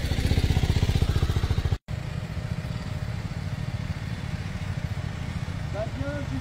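A motorcycle engine runs steadily during licence practice manoeuvres, a close, continuous low thrum. It cuts out sharply for a moment, then carries on at a lower, even idle while an instructor speaks over it.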